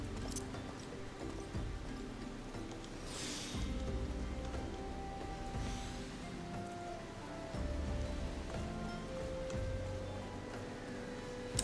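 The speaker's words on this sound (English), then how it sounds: "well, it's raining" Rain falls in Final Fantasy XIV as a soft, steady patter with faint ticking drops, quiet and continuous, under light game background music.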